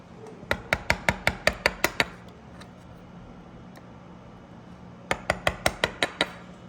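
A wood chisel is struck to clear dovetail corners in pine: two quick, evenly spaced series of about eight sharp, ringing taps, separated by a few seconds of quiet room tone.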